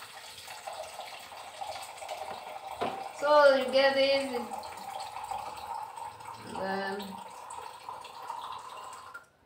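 Water pouring from a new water dispenser fed by a 20-liter bottle in a kitchen, a soft steady trickle running throughout, with a person speaking briefly over it.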